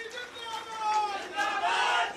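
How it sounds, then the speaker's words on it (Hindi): Rally crowd cheering for a speech by Madhya Pradesh's chief minister on railway development, swelling shouts and loud voices rising in waves over a couple of seconds, fairly close. "जोरदार ताली बजाएं मोदी जी के लिए और हमारे रेल मंत्री जी के लिए।"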